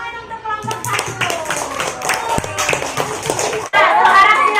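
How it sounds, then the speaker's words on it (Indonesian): Schoolchildren in a classroom applaud group 1, a dense burst of many hands clapping close by with voices mixed in, then a brief pause before the clapping resumes louder. "Kita kasih tepuk tangan untuk kelompok 1."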